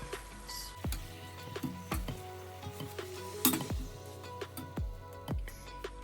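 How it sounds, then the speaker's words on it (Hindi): Donuts fry in hot oil for chocolate donuts, giving a steady sizzle broken by several sharp clinks and scrapes from a utensil, close and fairly loud, with no voices. "डोनट्स फ्राई हो गया। अब हम इनको निकाल लेंगे।"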